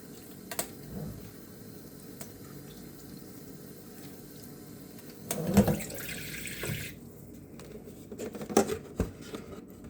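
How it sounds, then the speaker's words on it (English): Water runs from a tap into a container for watering pumpkin-shaped tomato plants, a soft steady trickle with a louder splashing burst midway and another near the end. "I'm going to fill it up a little bit more this time."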